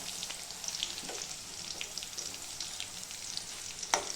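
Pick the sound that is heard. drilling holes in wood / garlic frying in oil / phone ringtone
garlic frying in oil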